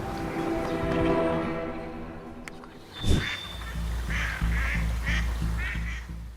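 A young duckling quacks in short, repeated bursts while a heron attacks it along a shoreline, the calls loud and close amid splashing and a sharp thump midway.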